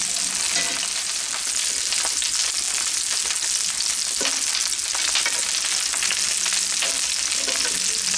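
Steady, dense sizzling of beef ribs frying in a hot pan, loud and close, with constant crackle and occasional small pops throughout.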